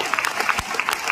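An audience at a gathering of housewife business leaders claps together in a brief, dense burst, close and steady for about a second with a few sharper individual claps standing out.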